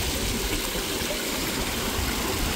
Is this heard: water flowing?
yes